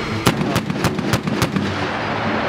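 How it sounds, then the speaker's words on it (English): A 25 mm Bushmaster cannon and M240 coaxial machine gun fire on an army range, a string of about six evenly spaced heavy booming shots over a second and a half, loud against steady background rumble. "Behind me, you can see the privates shooting 25 millimeter. Bushmaster and the M240 Charlie, otherwise known as the Coax."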